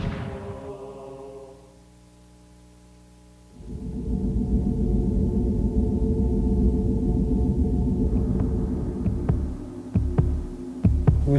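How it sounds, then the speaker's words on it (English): A steady, deep drumbeat pulses on and on without talk, and sharp rattle shakes join in near the end. "the sound of the drum and the rattle will help break up thought"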